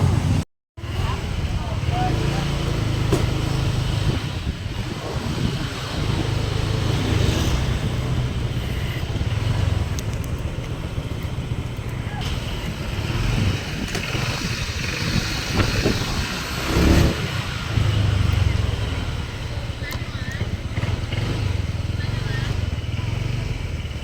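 Continuous engine and road noise from inside a car driving between old village houses on Tammalang island, Satun, steady and close with wind buffeting, a short dropout near the start and someone talking now and then.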